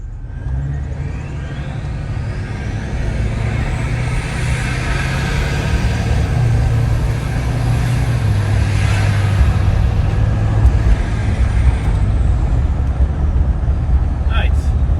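A Nissan Titan XD diesel pickup truck driving, its engine a loud, steady drone that rises gradually with road rumble as it accelerates, heard from inside the cab while someone talks.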